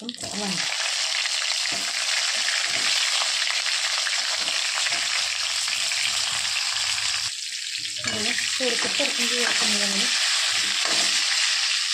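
Curry leaves and a pinch of asafoetida hit hot oil for a spicy brinjal curry, bursting into a loud, continuous crackling sizzle with brief spluttering pops partway through.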